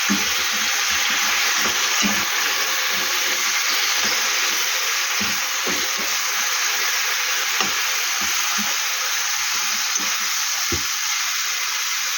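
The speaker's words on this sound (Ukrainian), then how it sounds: "І тут додавлю олійки і буду жарити цибулю з морквою." Onion and carrot fry in oil in a pan, giving a constant, loud hissing sizzle with small crackles and occasional stirring scrapes, no voices over it.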